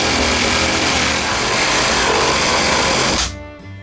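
A reciprocating saw cuts through old reclaimed wood in a steady, loud, continuous buzz that runs for about three seconds, then stops abruptly, leaving a faint ringing tail.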